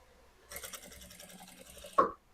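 Sewing machine stitching slowly along the lining of a blouse in one short burst, faint and close, ending with a brief louder knock.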